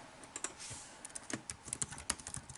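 Someone types on a computer keyboard, producing quiet, quick, irregular clicking keystrokes close by with no talk.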